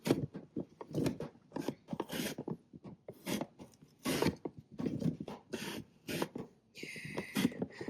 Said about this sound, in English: going back and forth and allowing the potato to be very thinly sliced